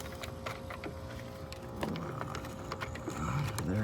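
Ratchet wrench loosening an 8 mm bolt on the battery of a Ford Econoline E450 box truck, a rapid run of light metallic clicks under a steady low hum, close and fairly quiet.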